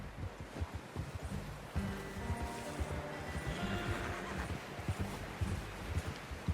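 Horse whinnies and neighs over clip-clopping hoofbeats in Red Dead Redemption 2, with faint rustling in the background; the hooves keep an uneven rhythm throughout and no one speaks.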